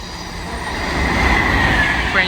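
A Class 390 electric train rushes past at Nuneaton on the West Coast Main Line, a steady close roar of wheels and rail with a faint high wheel squeal rising near the end.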